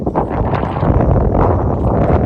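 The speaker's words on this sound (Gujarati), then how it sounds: "ખૂબ પવન છે ભાઈ" Strong wind buffets the microphone in an open farm field in a steady, loud rumbling roar throughout, with no clear talking.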